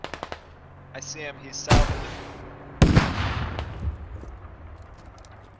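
Gunshots in the video game Squad. Two sharp, loud reports land a second apart amid smaller pops, and a voice talks over the opening.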